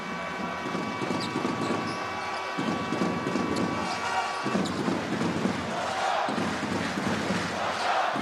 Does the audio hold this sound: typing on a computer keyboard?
no